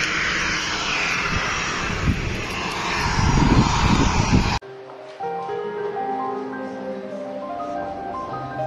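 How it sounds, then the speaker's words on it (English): A fixed-wing airplane's engine roars loudly overhead at a plane-spotting spot by an abandoned hotel complex on Madeira, a broad sustained rumble that cuts off abruptly, leaving quieter ambient sound. "this here actually is the perfect spot for plane spotting"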